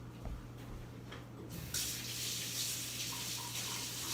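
Kitchen tap switched on, water gushing steadily into a sink to rinse a knife, a soft continuous splash that starts abruptly partway through after quieter handling sounds.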